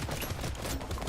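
SMG and pistol fire in the Brotato video game, a short, dense, continuous rattle of rapid shots at low level.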